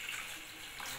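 Water poured over jaggery for payasam, a brief steady rush of splashing liquid heard close up.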